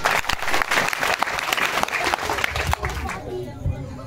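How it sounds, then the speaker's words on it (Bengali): Audience clapping for Nasir, lively applause from a gathered crowd that fills most of the moment, then thins out and trails off near the end. "আপনাদের সবার পক্ষ থেকে নাসিরের জন্য হাততালি"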